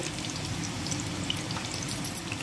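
Chopped onion and green chilli sizzle in about three spoons of hot oil for a Telugu lentil dish, a steady, soft, hissing sizzle with faint crackles and pops throughout.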